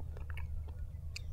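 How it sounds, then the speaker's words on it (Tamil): Soft fruit being bitten and chewed close up, a few quiet, wet crunching bites scattered over a steady low hum, with no talking. "இந்த பழத்தை இப்போ சாப்பிட்டு காட்டுறேன் பாருங்கள்."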